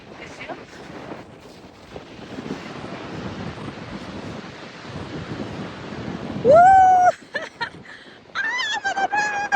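Sea waves wash along the shore in a steady, moderately loud surge, then a voice sings and talks over the surf toward the end.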